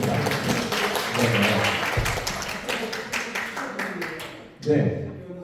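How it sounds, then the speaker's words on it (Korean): Seminar audience applauding in a small National Assembly meeting room, steady clapping that thins out and stops, with a voice speaking near the end. "박수 한번 부탁드리겠습니다"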